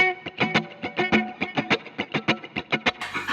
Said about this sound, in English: turn on the mod chorus echo